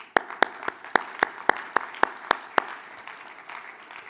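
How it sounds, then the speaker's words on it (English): At a 5G technology conference opening ceremony, a few people clap in a sparse, evenly spaced rhythm, about ten distinct claps that fade into the room's low murmur. "Round of applause to you."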